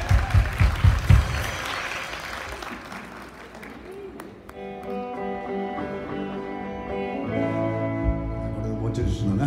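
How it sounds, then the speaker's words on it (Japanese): Brief burst of clapping at an outdoor cherry blossom festival performance, then it fades into sustained electric guitar tones from a White Falcon guitar ringing out, with a voice partly heard underneath. "はい、拍手。"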